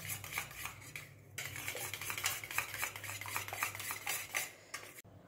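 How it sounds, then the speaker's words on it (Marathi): A utensil scrapes and clinks steadily against a bowl while homemade yogurt is whisked for chicken biryani, a quick rhythmic stirring heard up close with no talk. "हे दही व्यवस्थित फेटून घ्यायचं आहे."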